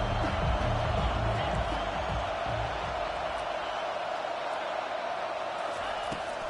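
A steady, dense roar of a stadium crowd fills a college football video game, constant and loud throughout, with a voice talking over it at the start.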